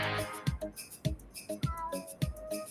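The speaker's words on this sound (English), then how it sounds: "Was that a cat?" A cat meows faintly somewhere in a streaming studio, its thin rising cries showing up late in the clip beneath a loud, thumping dance-music beat.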